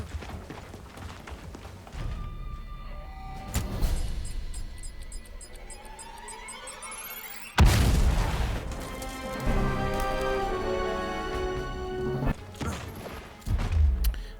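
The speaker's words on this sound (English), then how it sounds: "We've got some grenades been thrown down here." Grenade explosions in the video game Gears Tactics: a heavy crashing boom hits midway and a sharper blast lands near the end, over ongoing battle and game ambience.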